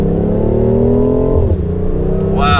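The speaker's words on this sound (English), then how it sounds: "Wow, not even half throttle and we are up just like that." BMW i8 Roadster accelerating at under half throttle, a loud steady engine drone rising in pitch from inside the car, easing briefly before a higher whine builds at the end.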